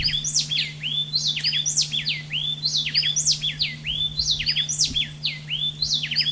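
Two birds, a male and a female, sing a tightly interlocked duet, fast repeated whistled phrases alternating so closely they merge into one continuous rhythmic song over a steady low hum.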